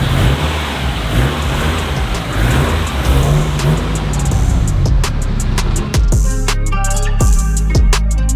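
A 2006 Subaru WRX STI drives out, its engine loud and close, revving steadily and then fading toward the end, where a few sharp ticks and clatters stand out.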